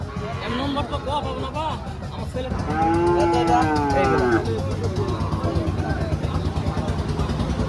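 Cattle at the Ambari livestock market, including Shahiwal bulls: a loud, drawn-out moo rises close by over a busy murmur of voices and crowd noise, with people talking throughout.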